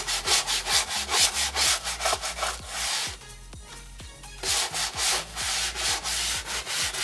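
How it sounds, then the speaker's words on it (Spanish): Hand brush scrubbing car plastic trim with soap powder: close, brisk back-and-forth rubbing strokes in a steady rhythm, a short pause midway, then more vigorous scrubbing. "Primero con el cepillo manual"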